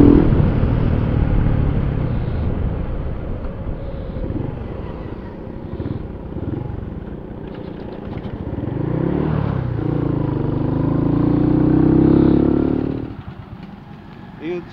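Motorbike ridden on a rural road in Manikganj, its engine droning steadily throughout with a rising rev swell near the end, while people talk over it.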